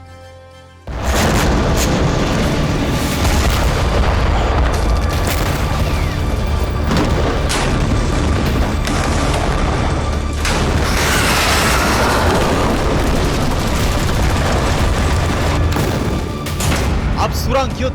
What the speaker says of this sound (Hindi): सबसे पहले हमास के अस्पताल पे जो इजराइल के बारूदी एक्शन हो रहे हैं वो आपको दिखाते हैं